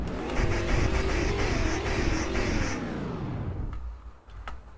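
A DeLorean's engine revs up loudly in the Roblox game Greenville, holding a rising, sustained roar for nearly three seconds before dropping away into a quieter idle with a couple of brief blips.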